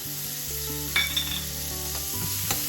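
Finely chopped garlic fries in a pan for palak paneer, a steady close sizzle with a few sharp stirring clinks over a constant background hum.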